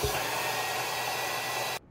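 A vacuum forming machine runs while shaping a sheet of mouthguard material into a face mask, giving a steady, loud, broadband whoosh that holds evenly and then cuts off abruptly near the end, with no voices.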